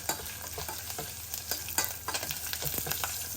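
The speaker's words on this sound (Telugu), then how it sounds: "ఆయిల్ కింది స్టవ్ మీద పడకూడదు అని చెప్పేసి అయినా పడుతుంది కరివేపాకు అంత తడి ఉంటుంది కదా" Wet curry leaves crackle and sizzle in hot oil in a large pot while a tempering is made for cabbage dal, with steady close spattering, sharp pops and some stirring, and no voices.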